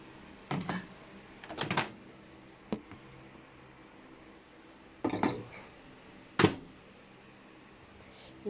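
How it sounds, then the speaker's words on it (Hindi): Plastic-covered bread dough set into a microwave oven: a few close, sharp clattering knocks and clunks spaced apart, with quiet stretches between and no talking. "मैं अब इसको अपने ओवन में रखने लगी हूँ"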